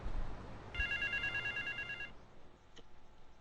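A telephone ringing in the video game GTA Vice City, one bright electronic trill lasting just over a second over a low rumble of game ambience, followed by quiet background.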